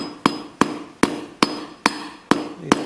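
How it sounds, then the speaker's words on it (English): Seven sharp hammer taps strike a thick metal piece clamped in a vise at an even pace, each a crisp ringing clank, close and alone. "So all I'm going to do is tap it with a hammer."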